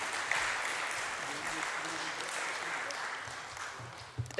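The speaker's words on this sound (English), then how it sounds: "Perhaps we can just give a round of applause," Steady audience applause at a skills conference session, a broad wash of many hands clapping at moderate distance, with a voice briefly heard near the end.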